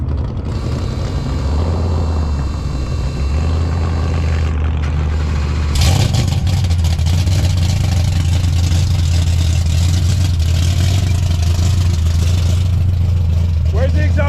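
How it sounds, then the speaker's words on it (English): A 347 V8 in a Ford Mustang Foxbody notchback, an 855-horsepower build, fires up partway through with a sharp burst, then settles into a loud, choppy idle while people talk nearby. "let's hear it start up, a little chop, and then maybe once it warms up, give it a little rev"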